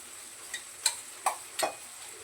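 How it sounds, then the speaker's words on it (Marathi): Masala paste frying in oil, a faint steady sizzle with a few sharp light clinks of a spoon against the pan spaced about every half second, close and quiet, with no speech. "बघा हा मसाला चांगला परतून घेतला तर तेल सुटलं"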